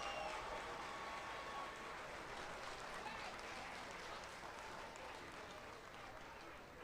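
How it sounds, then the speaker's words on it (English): A stadium crowd at a military parade applauding and cheering, a dense continuous wash of clapping and shouts heard from a distance, steady and faint, with a voice talking over it. "They are applauding, they are dancing, they are cheering,"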